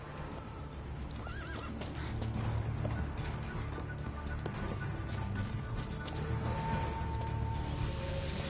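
In the video game Witcher 3, the horse Roach clip-clops along with hooves beating steadily and gives a clear whinny, with game ambience and movement sounds around it.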